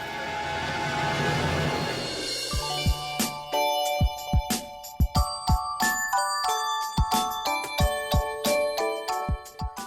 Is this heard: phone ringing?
yes